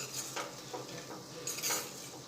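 Okra curry with added grains stirred in a pan, a few soft scraping strokes and light utensil clinks against the metal with a faint sizzle beneath, close and fairly quiet.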